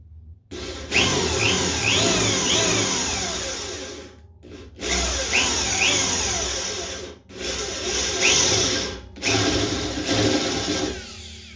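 A power drill grinds steadily through a cast iron radiator in three long bursts separated by brief pauses, loud and close, with a harsh whining, scraping edge.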